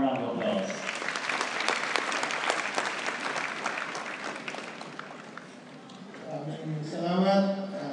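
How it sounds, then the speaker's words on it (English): Sustained audience applause fills the room at a Philippine professional finance event in Cebu, a dense steady clapping wash that fades near the end as a voice begins speaking. "Let's give him a warm round of applause"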